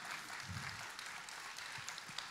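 A concert audience applauds mothers on their holiday, a steady, fairly faint wash of clapping spread across the hall with no voices over it.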